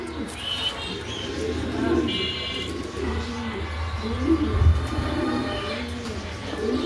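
Pigeons at a home pigeon farm coo in soft, low, repeated phrases, with a constant hum and a few high chirps in the background.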